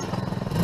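A nearby engine idles roughly with a rapid pulsing beat, then begins to rise and rev up toward the end of the short moment.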